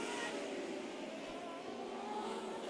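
Race cars circle a dirt oval at Wayne County Speedway under a caution in a HART Series feature, a steady distant roar of engines with crowd wash and no clear single pass.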